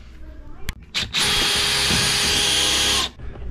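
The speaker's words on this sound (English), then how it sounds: "this drill bit is into the basement" A power drill bores down through a floor into the basement: a few short clicks and blips, then a loud, steady high-pitched whir held for about two seconds before it stops.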